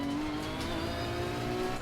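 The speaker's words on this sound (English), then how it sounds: "Can't tell me the car doesn't sound immersive." A race car engine in Assetto Corsa Competizione holds a steady, droning tone at moderate volume with a faint tire hiss, continuous and unbroken throughout.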